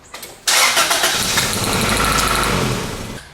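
A car engine cranks briefly, then catches and settles into a loud, steady idle close by, with no one talking.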